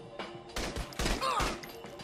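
Shotgun blasts in the video game Saints Row: The Third, a few sharp, loud reports in quick succession with a crash and clatter mixed in.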